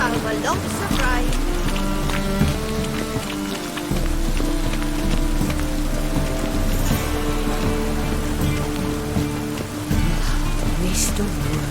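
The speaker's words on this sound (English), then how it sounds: "Lots of fuss over lots of rain." Heavy rain pours down in a steady, loud wash, with a dense patter of drops that carries on without a break.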